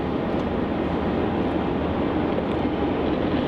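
A Qantas Airbus A330 taxies along a taxiway at Melbourne Airport, giving a steady, unbroken broadband jet rumble and whine that holds an even loudness throughout, heard from some distance with no voices.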